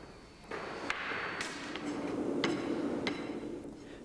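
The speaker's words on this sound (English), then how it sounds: "The last compaction of the sand in the drag is carried out using a flat rammer." A flat rammer strikes packed sand in a foundry mould drag, several dull thuds at irregular intervals over a low scraping background, close by with no speech.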